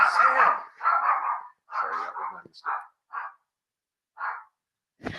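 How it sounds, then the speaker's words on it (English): A dog barks repeatedly indoors, loud, close bursts in an uneven rhythm with pauses between, ending with a brief thump; no speech. "dog barking"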